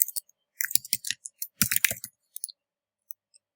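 Typing on a computer keyboard, brief bursts of light key clicks in uneven clusters, close and fairly quiet, trailing off into sparse single taps.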